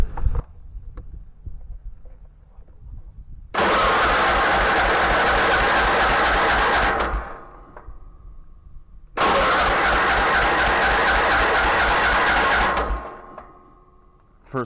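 Two attempts to crank the engine of an off-grid irrigation machine: each a loud, steady mechanical churning lasting several seconds, separated by a quieter pause and ending in near silence.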